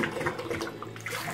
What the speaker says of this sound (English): It's creating a suction and pushing the water through.